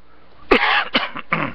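A harsh, close cough followed by a couple of shorter throat-clearing coughs in quick succession, loud against a quiet room.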